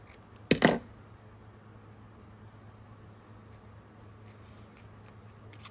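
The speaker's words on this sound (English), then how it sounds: "I'm gonna cut it down through the middle." Scissors cut down the middle of paper for a mixed-media journal page, one brief crisp snip burst near the start, then near silence with faint room noise.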